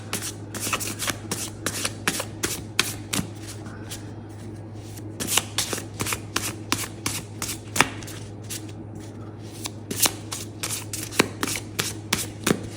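Tarot cards shuffled by hand for a pick-a-card reading, a run of crisp riffling bursts and sharp flicks in irregular rhythm, close and clear with no talking.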